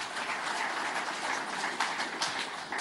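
An audience applauds during Vona Gábor's season-opening political speech, a dense, even patter of many clapping hands that holds steady for a few seconds with no talk over it.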